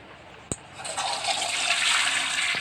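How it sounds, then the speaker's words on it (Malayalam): A household toilet flushing in a washroom, opening with a sharp click of the lever, then a steady rising rush of water that swells and holds loud to the end. "ഇതിന് ഞാൻ ഫ്ലഷ് അടിച്ച് കളയുന്ന കാണിച്ചാൽ"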